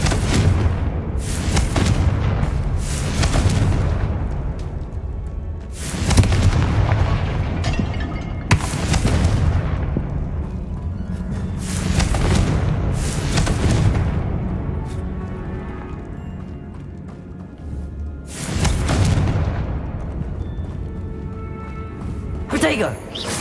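Confringo fire spells blasting in Hogwarts Legacy, a video game: repeated loud booming explosions at irregular intervals, each burst followed by a rumbling decay, with talk running over them throughout.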